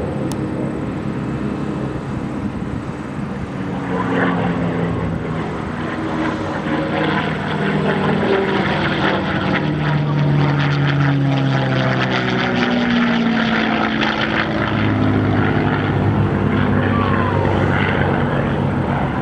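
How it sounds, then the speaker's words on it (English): A P-51D Mustang named Quicksilver roars overhead at an air show, its V-12 Merlin engine droning loudly and continuously while pitch sweeps shift as the fighter maneuvers through rolls. "listen to those 6 pipes coming out each side of the nacelle of the Mustang and listen to that V-12 Merlin"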